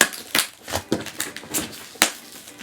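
Sharp scissors snipping open a doll package, a series of crisp irregular cuts and crinkles close by, about six distinct snips over a few seconds with no voices.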